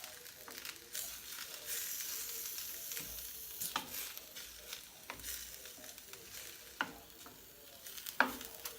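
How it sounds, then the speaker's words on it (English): Buffalo chicken strips are tossed in a hot pan, a steady sizzle broken by sharp scraping and clattering strokes of a utensil at irregular intervals. "I'm going to toss these together."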